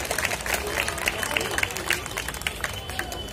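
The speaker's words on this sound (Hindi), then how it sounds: "इन बच्चों और युवाओं की तालियां बजाने प्लीज" An outdoor protest crowd at Jama Masjid claps for children and youth, a moderate scattered applause with some uneven, sharper individual claps, a faint murmur of voices underneath.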